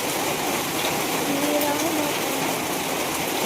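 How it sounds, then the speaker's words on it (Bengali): Heavy rain pours down outdoors in a dense, steady roar of drops hitting surfaces, loud and continuous from start to finish, with a faint voice briefly in the background. "জোরে বৃষ্টি,"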